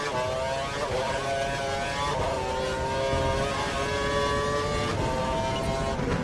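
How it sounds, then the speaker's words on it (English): Formula 1 race car engine from the Formula 1 2012 video game at the Brazil circuit, a loud sustained high-revving whine with gear-shift pitch changes, heard steadily throughout without talk. "we need you to make way for the car Perez behind"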